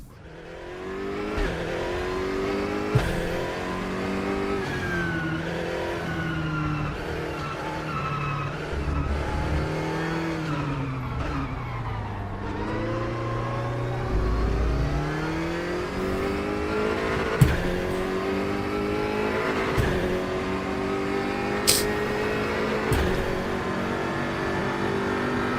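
Race car engine in the RaceRoom Racing Experience sim, droning and revving continuously through gear changes with downshift blips and occasional tire squeal, loud and steady without pause.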